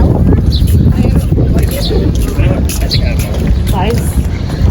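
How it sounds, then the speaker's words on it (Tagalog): Strong outdoor wind buffets the microphone in a constant loud rumble on a sunny day, while people talk faintly over it. "It's so sunny here. And also windy."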